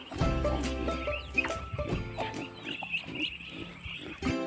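Pig grunts and snorts come in uneven bursts over a busy, noisy farmyard background, fairly close and loud.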